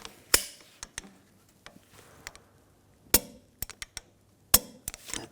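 Tools clank and click sharply on the inner tie rod of a 2011-2018 Volkswagen Jetta as it is tightened, with a few loud metallic hits spread among lighter taps in a quiet garage.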